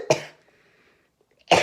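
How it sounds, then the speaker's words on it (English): Two sharp coughs, one at the start and one at the end, with quiet in between. "I have to cough."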